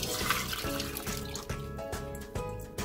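Water runs and splashes steadily into a metal pot holding sugar for a syrup, with some clinks and knocks from the container throughout.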